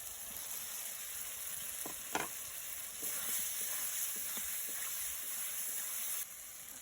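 Prawns fry in hot oil for a coconut-milk prawn malai curry, a steady hiss of sizzling with occasional spatula taps, quiet and fairly distant before the sound cuts off abruptly near the end.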